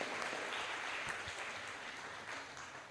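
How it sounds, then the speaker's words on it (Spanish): Church congregation clapping during a Christmas sermon, a continuous patter of many hands that gradually softens, with a few low thumps mixed in. "Ahí va el aplauso para el Señor."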